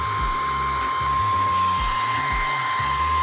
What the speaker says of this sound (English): I've been at it with the hair dryer for about 3 minutes now.